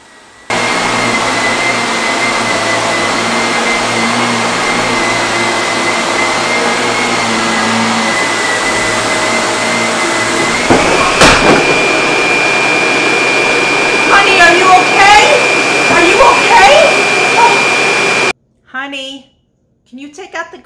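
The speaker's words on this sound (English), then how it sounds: "why are you vacuuming?" A vacuum cleaner runs over rugs in a home with a steady, loud motor drone that holds for most of the stretch, shifts abruptly partway through, then cuts off near the end.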